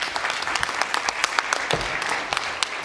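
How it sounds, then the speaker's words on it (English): Scattered clapping from an audience at a Palomar College keynote, with distinct individual claps over a few seconds, fairly close and moderately loud. "Give yourselves a round of applause."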